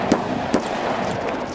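Two sharp gunshots ring out in Escape from Tarkov, about half a second apart, over a steady background din with no talk.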